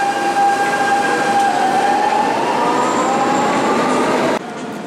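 A Lisbon Metro train rolls loudly close by at a terminal platform, a continuous rumbling roar with a high tonal whine that slowly rises in pitch, then drops off abruptly.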